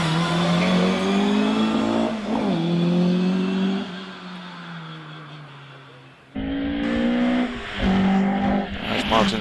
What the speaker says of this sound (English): Martin Saunders in his 2-litre 1970 Escort Mark 1 makes his way up towards the first hairpin